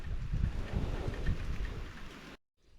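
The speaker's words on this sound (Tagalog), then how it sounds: "inabutan na kami ng ulan dito" Steady rain pours down on a mountain road by rice terraces with a dense patter, then cuts off abruptly into near silence.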